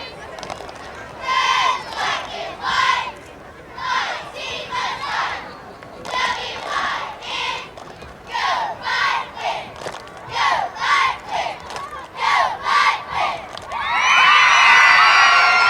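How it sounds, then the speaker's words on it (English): Young cheerleading girls chant a cheer in unison at a football game, with rhythmic shouted phrases repeating and a crowd cheering loudly near the end. "First, they will lead us in a cheer."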